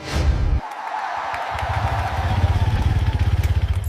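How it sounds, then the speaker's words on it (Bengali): A motorcycle engine runs close by, settling into a steady, throbbing idle of rapid, even pulses that grow slightly louder toward the end, with no voices over it. "এই নাও তোমার বাইক"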